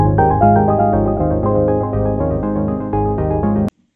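A short, calm looped background tune from Scratch plays clearly for nearly four seconds with steady melodic notes and a soft beat, then stops abruptly.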